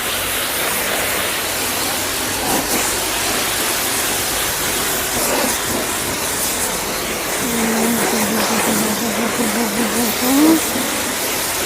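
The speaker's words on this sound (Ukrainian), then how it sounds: "Я буду зараз мочити машину водою." Water sprayed over a car at a car wash, a loud, steady, broad hiss of spray that continues throughout, with faint voices and a brief tonal whine near the end.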